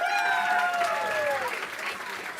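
At the Iowa State University Honors Program spring convocation, an audience applauds steadily while a rising, then falling whoop or whistle-like cheer cuts through near the start and fades.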